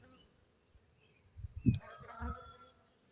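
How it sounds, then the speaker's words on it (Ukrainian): A faint buzzing of overwintered honeybees near a hive, with a few louder passes as insects fly close to the microphone, otherwise quiet. "Льотна бджола, та що зимувала, ще є у вулику"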